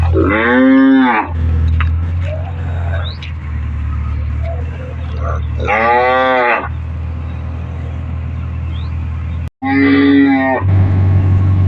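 A cow that has just calved moos loudly three times, long drawn-out calls spaced several seconds apart over a low steady rumble.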